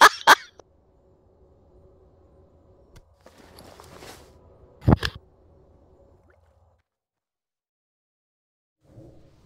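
A chicken in World of Warcraft, during a Naxxramas raid on a Turtle WoW server, gives a short cluck at the start and another around the middle, with quiet game ambience in between.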